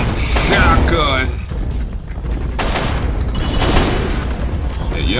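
Shotgun blasts boom in the shooter video game Area 51, loud and close, mixed with heavy game action and chatter that runs through the whole stretch.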